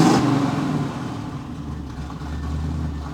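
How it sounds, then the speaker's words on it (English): A cammed car engine idles with a lopey, uneven rumble, a deep choppy beat close by that settles into a low steady throb. "There's a cam in that motor. With that nice lopity idle."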